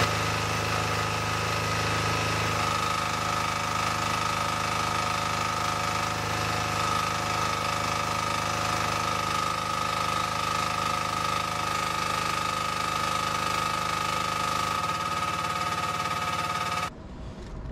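A small Proton 360 Plus petrol generator runs steadily with a constant droning hum and mechanical whine, then changes abruptly just before the end.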